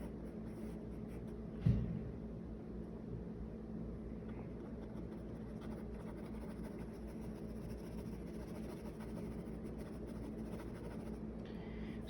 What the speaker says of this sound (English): draw darker with the pencil, or you could just do it several times